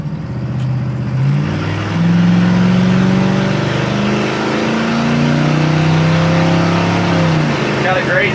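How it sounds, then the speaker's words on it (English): An old Ford Taurus engine hums steadily nearby, its pitch rising and shifting through gears as the car passes, a continuous motor drone lasting several seconds. "Wait for the old Taurus to go by."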